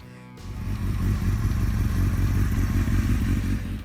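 A Honda CBR900RR Fireblade sport motorcycle engine roars steadily after a brief start, a loud, dense rumble held for several seconds with no speech.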